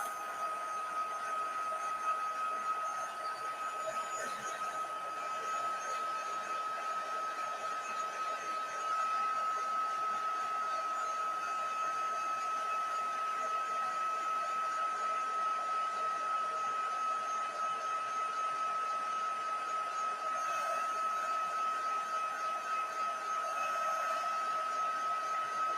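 A hair dryer blows steadily to dry crafted paper cards, a continuous whirring hiss with a thin whine running through it, close and unbroken throughout.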